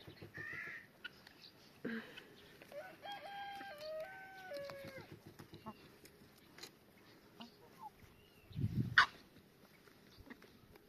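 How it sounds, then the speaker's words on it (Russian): Chickens cluck softly while a rooster crows once in a long rising and falling call in the yard, followed later by a brief flurry of louder noise, with quiet background sounds throughout. "Грушенька, не надо кормить курей рыбой."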